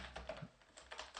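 C++ code typed on a computer keyboard, a quick, faint burst of several soft key clicks in close succession.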